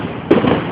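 A single firework bursts at a July 4 display, one sharp boom rising out of steady background noise and then rumbling away briefly.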